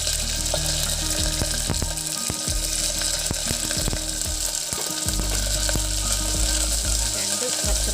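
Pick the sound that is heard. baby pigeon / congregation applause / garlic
garlic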